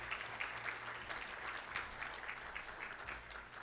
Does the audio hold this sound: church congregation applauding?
yes